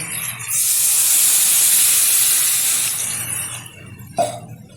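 Water is poured into a hot pan of dal fry with tomato and salt, raising a loud, steady hiss of steam that lasts about three seconds, then fades, with a clink of a utensil near the end.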